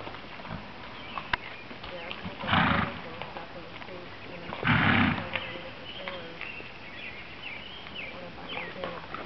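Horse at a working trot in a dressage arena for a walk-trot test, steady muffled hoofbeats under constant wind-like noise, with two louder bursts partway through and a voice calling the test in the background.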